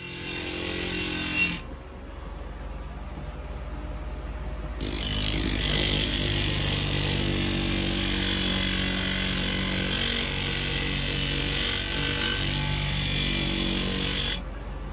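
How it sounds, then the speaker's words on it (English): A power grinder grinds the edges off a piece of fused glass, giving a loud, steady, close whine and hiss that runs throughout, with a brief drop near the start and shifts as pressure changes. "So what you saw me doing there was grinding off the edges"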